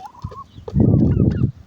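Turkeys on a farm selling poultry give a short, loud burst of rapid, rattling gobbling after a few faint clucks and calls, with no speech.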